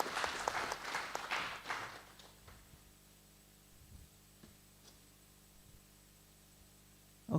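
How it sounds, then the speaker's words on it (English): Audience clapping for panelists and a moderator at an affordable housing conference in Kenya, a burst of applause that fades out after about two seconds, leaving faint hum and a few soft knocks. "A clap for them for a good job."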